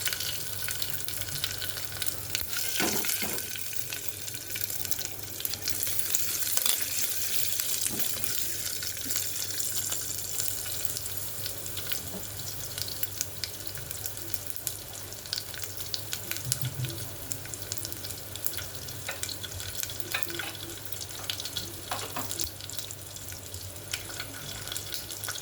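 Curry leaves and garlic frying in hot oil in a pan for sambar give a steady, close crackling sizzle that carries on without a break, with no voices.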